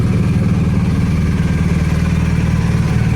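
A 2019 BMW R1250RT-P police motorcycle with a freshly replaced clutch idles while warming up, its steady low boxer-engine rumble running close and even throughout with no voices.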